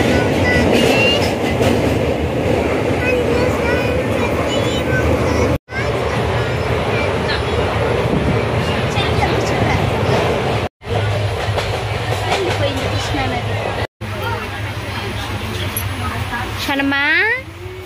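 A passenger train crosses the Krishna river bridge with a loud, continuous rumble and rhythmic clickety-clack heard from inside the carriage, while people talk over it.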